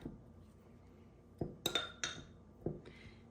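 A spoon clinks against a glass jar while thick sourdough leaven is stirred, giving four or five sharp, close taps spaced irregularly over a quiet background.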